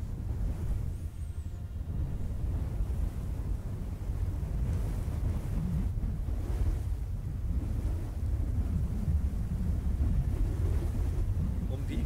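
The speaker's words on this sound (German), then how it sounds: "Der Wind ist so laut." Loud wind buffeting a microphone, a continuous low rumbling roar that stays steady throughout and masks everything else.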